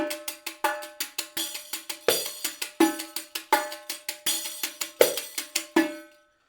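Riqq frame drum with jingles playing basic strokes at a faster pace: crisp, evenly spaced jingle hits with periodic deeper accents in a repeating pattern, close and clear, stopping abruptly.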